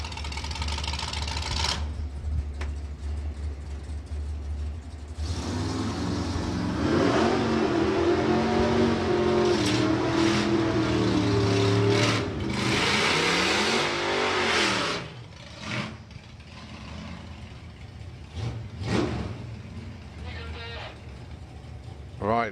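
A drag racing car at Santa Pod revs its engine in a loud, sustained roar that rises and falls in pitch before cutting away, with a commentator talking over it.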